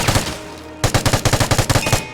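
A CAM-72 light machine gun in the video game Vigor fires two bursts, a short pair of shots followed by a rapid string of about a dozen evenly spaced cracks, loud and close with no voices.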